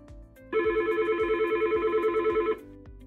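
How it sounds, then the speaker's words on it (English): A Yealink desk phone rings with an incoming call, a steady two-second electronic ringtone with a pulsing warble, fairly loud and close, starting and stopping cleanly over a faint low rhythmic background. "When a call rings into your phone, you have a few options."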